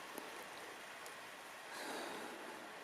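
A small brook running through a field in the wilderness at dusk, a soft, steady rush of flowing water heard at a moderate distance, swelling slightly toward the end with no talking.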